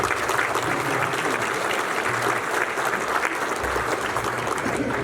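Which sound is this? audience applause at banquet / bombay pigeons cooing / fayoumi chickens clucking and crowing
audience applause at banquet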